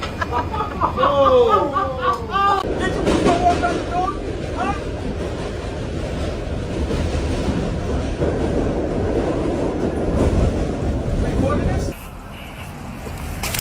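A train rumbles steadily along the rails from inside a carriage, with people talking loudly close by over the constant rolling noise.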